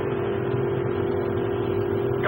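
Steady engine hum of a spacecraft starting up in a 1960 science-fiction film, a continuous low drone with a sustained tone that holds evenly throughout, loud and unbroken.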